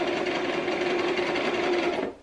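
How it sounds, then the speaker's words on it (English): A sewing machine runs in one continuous fast, even whir while stitching a trouser leg seam closed, close and loud, then stops abruptly at the end. "I'm gonna sew the other leg closed"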